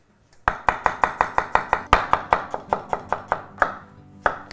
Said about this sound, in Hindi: गर्म करने के साथ साथ प्याज स्लाइस करना है।